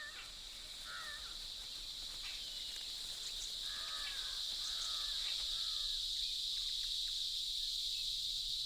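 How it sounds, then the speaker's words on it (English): A loud, steady high-pitched drone of cicadas in an Indian tiger jungle fills the whole stretch, with a few bird calls breaking through early on and then fading. "The cicada's love song is the loudest noise in the insect world."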